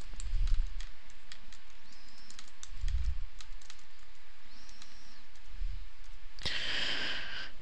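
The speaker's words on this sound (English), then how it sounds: "I want to type my title." Quiet keystrokes on a computer keyboard as a title is typed, scattered clicks in short bursts, with a louder rustling clatter near the end.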